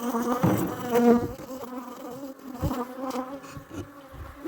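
A dense, close buzzing of many honey bees humming continuously in a hive, rising and falling in intensity.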